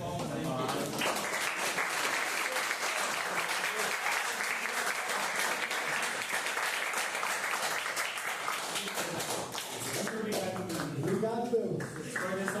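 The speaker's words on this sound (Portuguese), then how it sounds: "Uma salva de palmas aí." Sustained audience applause at a talk, steady and full throughout, with voices murmuring underneath near the end.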